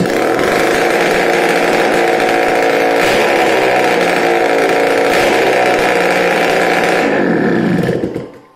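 A two-stroke Japanese-style scooter engine running with its exhaust removed roars loud and close at a steady high idle, with slight revving, then cuts out and dies away at the end.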